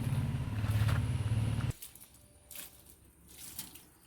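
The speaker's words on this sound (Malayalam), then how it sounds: "കുറച്ച് വെള്ളം താളിച്ച് കൊടുക്കുകയാണ്." Water is poured onto a homemade orchid tower, a loud gushing splash for about a second and a half that cuts off abruptly, followed by quiet trickles and faint drips.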